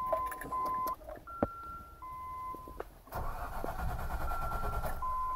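A 1995 Land Rover Discovery engine cranks without catching, a rhythmic starter churning heard in two bursts separated by brief pauses and clicks, close and moderately loud.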